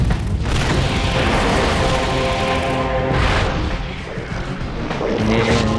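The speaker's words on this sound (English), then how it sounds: "And down goes the Yak with a big explosion." A big explosion from a destroyed Yak mech in the video game Mechwarrior 2 Mercenaries, a dense loud booming roar with a second surge partway through, filling the whole stretch without speech.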